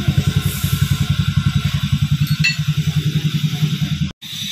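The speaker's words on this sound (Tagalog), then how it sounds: "Hindi na siya tunog bangka. Tunog motor na." A repaired motorcycle engine idles nearby with a rapid, regular putter, then cuts out abruptly for a moment before the sound resumes.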